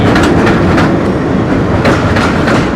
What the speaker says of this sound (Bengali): মাত্র ট্রেন আসলো